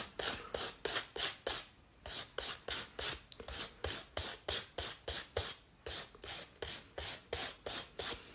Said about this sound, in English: I'm just gonna file a little bit at the top to finish off some of the nails